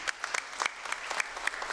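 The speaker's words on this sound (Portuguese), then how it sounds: "Uma salva de palmas para eles." Audience applause at a formal solemn session awarding the Tiradentes Medal: a short burst of steady, moderately faint clapping from a seated crowd in a hall.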